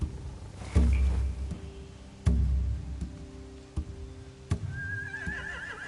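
Horses neighing in The Walking Dead video game, a few sharp thuds and clops scattered across a quiet background, and a clear whinny rising near the end.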